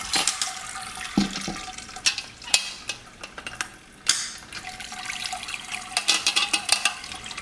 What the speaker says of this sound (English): the wort is starting to run down in to the 3-in-1